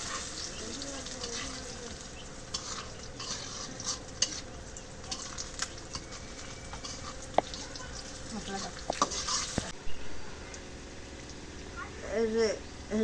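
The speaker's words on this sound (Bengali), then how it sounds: "তেল দিয়ে পেঁয়াজটা ভাইজে নিলাম" Onions fry in oil in a pan while being stirred, with a continuous sizzle under scraping and knocking from the spoon. Low voices can be heard in the background.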